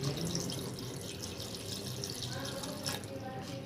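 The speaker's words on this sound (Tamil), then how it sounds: "கீரை வேகிறதுக்கு தேவையான அளவுக்கு தண்ணி சேர்த்துப்போம்." Water is poured into a pot of cooking ponnanganni spinach kootu, a steady close rush of liquid running continuously without pause.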